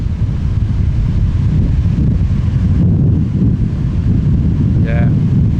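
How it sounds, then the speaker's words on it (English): Steady wind rushes across the microphone on a lakeshore while waves wash onto the beach, a constant broadband roar with no clear individual breaks, and a brief faint voice rising near the end. "the sounds of the waves crashing onto the beach."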